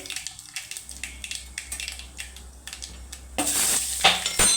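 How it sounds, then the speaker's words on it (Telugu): Mustard seeds splutter and pop in hot oil in a pan while an Andhra-style pepper rasam is being cooked, first as faint scattered crackles, then a louder sizzling burst near the end. "ఆవాలండి ఆవాలు ఇట్లా చిట్లాలండి"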